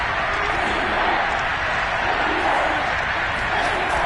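Stadium crowd noise from the American football video game Madden 22, Kansas City home crowd on third and goal: a dense, steady roar with a continuous broadband wash that holds loud throughout.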